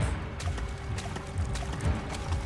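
Water in the dark forest of the horror game Amnesia: Emma's Nightmare, a continuous sloshing, trickling wash with rhythmic surges, loud and close with no talking over it.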